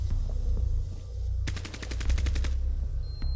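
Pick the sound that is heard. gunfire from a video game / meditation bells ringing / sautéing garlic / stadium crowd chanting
gunfire from a video game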